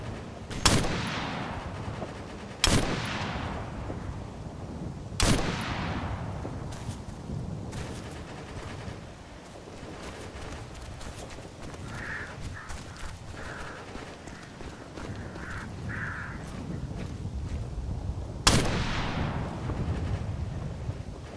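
Gunfire in the military shooter game Operation Flashpoint: Red River, a handful of sharp, loud shots spaced seconds apart with long decaying echoes over a low battlefield rumble.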